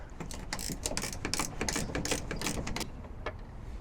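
Rapid ratcheting clicks come from loosening 8mm bolts on a Ford Maverick tail light, a close, quick, even series of mechanical ticks for a few seconds.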